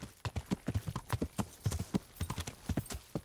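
A horse's hooves clip-clop at a brisk, steady rhythm in Kingdom Come Deliverance, the close, crisp hoof strikes repeating evenly from start to end.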